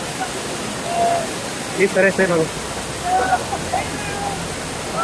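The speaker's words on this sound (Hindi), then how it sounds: "पहाड़ पर जगह जगह पर झरना बना हुआ है" Waterfall on a mountainside at Tungareshwar, where pilgrims bathe: a steady broadband rush of falling water runs throughout, with a person talking over it and a few brief tonal calls.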